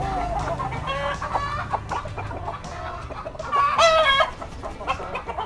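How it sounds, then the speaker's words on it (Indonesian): A Green Ninja Hanaca rooster clucks repeatedly, close by, in a small-space chicken-rearing setting, with short throaty calls and a louder burst near the end over steady background noise. "Dan ini pejantan Green Ninja kedua saya ya teman-teman ya."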